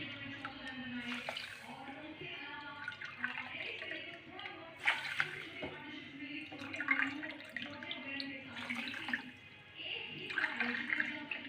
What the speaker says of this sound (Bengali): এখানে আমি জল দেবো দু কাপ চিনি দিলাম তো চার কাপ জল দেব